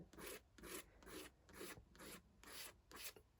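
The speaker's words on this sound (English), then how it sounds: "you can see I'm just scraping the paint across the page" A scraper drags thin acrylic paint across paper in steady repeated rasping strokes, about eight even back-and-forth scrapes, close and faint, with no voices.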